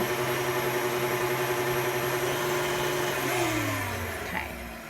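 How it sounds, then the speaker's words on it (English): Electric kitchen mixer whirring through pumpkin roll batter: a steady loud motor whine that drops in pitch and winds down near the end. "a lot of on and off with our mixer here"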